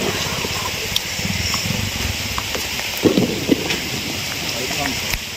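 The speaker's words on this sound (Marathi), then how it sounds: "छान पाऊस पडतोय" Steady monsoon rain hisses down outside a village home in Devrukh, Ratnagiri, as a dense, even wash of noise, with people talking over it.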